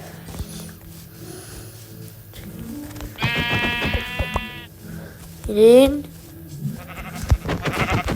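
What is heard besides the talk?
sheep bleating in the video game Minecraft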